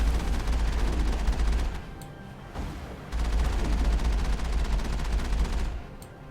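Gunfire from enemy combatants in the video game Mass Effect, a dense continuous fusillade of rapid shots with heavy low rumble that dips briefly midway before resuming loudly, with no talking.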